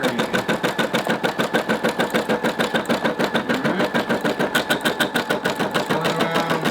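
Brother SE600 embroidery machine stitching, a fast steady mechanical rattle of rapid needle strokes running continuously and fairly loud throughout, with no voices.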